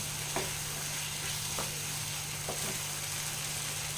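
Paneer fries in a pan over a raised flame, giving a steady, fairly quiet sizzling hiss broken by a few soft scrapes of stirring, with a low electrical hum underneath and no talking.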